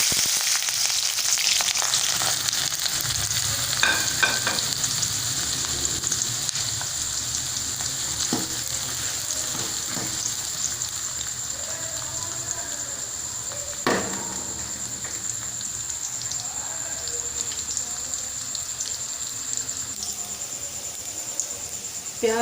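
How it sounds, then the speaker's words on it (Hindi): Onions frying in oil in a wok for a tadka, a steady close sizzle and crackle running throughout with occasional stirring clinks and no talk. "अब हम ये प्याज लेंगे, इसको हम इस कढ़ाई में डालेंगे और इसका तड़का तैयार कर लेंगे।"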